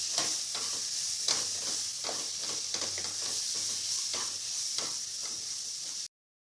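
Stuffed parval (pointed gourd) being stirred as it fries in a pan, a continuous bright sizzle with soft repeated scraping strokes, steady throughout before cutting off abruptly.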